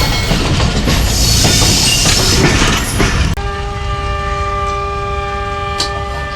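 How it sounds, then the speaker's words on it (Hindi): A Jaffar Express train rolls loudly through Dina railway station in Punjab with constant rumbling clatter, then a long steady horn whistle cuts in and holds through the rest of the passage, sounding close over the running noise. "जी हमारी गाड़ी की जो विसल हो गई है पहले।"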